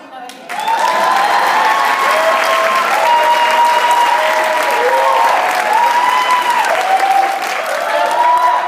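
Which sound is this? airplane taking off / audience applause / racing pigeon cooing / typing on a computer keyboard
audience applause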